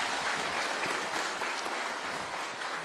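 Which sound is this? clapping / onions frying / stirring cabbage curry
clapping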